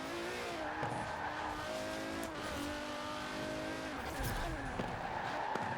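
A Mercedes racing car engine in Forza Horizon 4 whines and downshifts, tires squealing briefly as it brakes hard, with a voice talking over the engine noise.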